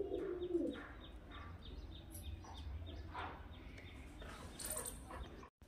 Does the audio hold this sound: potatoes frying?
no